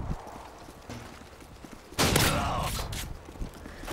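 A Model 1887 lever-action shotgun fires in Modern Warfare 2, one loud, sudden blast about halfway through with a ringing tail, after quieter game noises.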